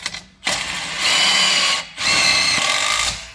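A power tool drives bolts through an M17 socket while fitting a fold-down T-step to a Ford Ranger Raptor, two loud sustained whirring bursts separated by a short pause.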